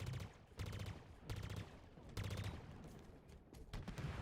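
Rapid bursts of gunfire from a video game, several volleys in quick succession with brief pauses between, loud and close, with faint background voices.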